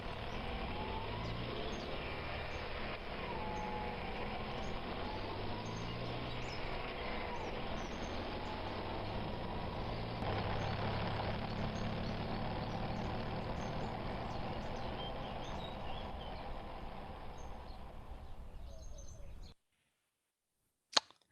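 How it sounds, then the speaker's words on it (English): A delivery truck's engine runs steadily as it drives, a continuous low rumble with a faint shifting whine over it, holding at even loudness before cutting out abruptly near the end, followed by a brief click. "This is a truck delivery."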